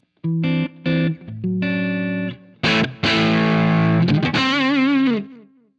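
Electric guitar played through a Gizmo Audio SB drive pedal with added boost, heavily saturated and distorted, ringing out chopped chords and sustained notes with a final wavering, vibrato-like bend, loud and up close.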